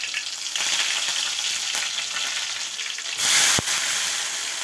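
Mustard seeds, cumin and curry leaves fry in hot oil with a loud, dense sizzle throughout, swelling into a brief harsh burst near the end before settling again.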